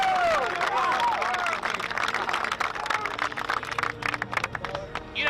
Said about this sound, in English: So how about we give them a round of applause?